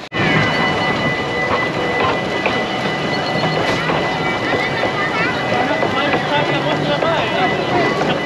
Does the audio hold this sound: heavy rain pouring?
yes